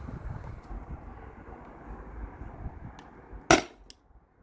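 Salt Supply S2 airsoft gun firing a heavy BB through a chronograph on a warm day: one sharp, loud crack stands out over a low background hum, with a couple of fainter ticks around it.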